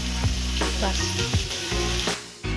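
Garam masala and kitchen king masala being stirred in a frying pan, with a steady sizzle and repeated scraping strokes of the spoon running throughout, close and fairly loud.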